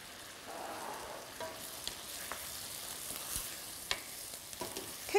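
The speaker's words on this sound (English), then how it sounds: "cook for another 30 seconds until the spring onion wilts a little" Chicken stir-fries with spring onion and fresh coriander in a pan, a quiet continuous sizzle broken by scattered clicks and scrapes of stirring.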